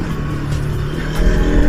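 Steady engine hum and road noise from a Bajaj Pulsar NS200 BS6 motorcycle being ridden, close up, rising slightly in loudness near the end of the brief stretch.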